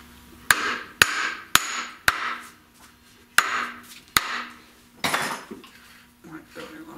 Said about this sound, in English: So I've got my hide hammer